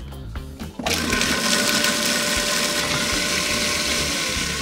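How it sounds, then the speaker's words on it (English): Robot Coupe Robot Cook on turbo grinding spices and cashews: a few low thumps, then the motor surges into a loud, steady, high-pitched whirring roar that holds to the end, with no talking. "I'm just going to use the turbo boost power part of the machine now"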